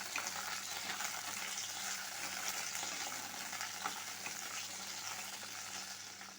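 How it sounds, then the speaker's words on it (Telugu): Green chillies fry in oil over a low flame, giving a soft, even sizzle with faint crackles throughout, close but quiet, no voices. "ఒక 50 గ్రాముల వరకు పచ్చిమిర్చి వేసుకోవాలి. పచ్చిమిర్చి లో ఫ్లేమ్లో పెట్టుకొని దోరగా వేయించుకోవాలి."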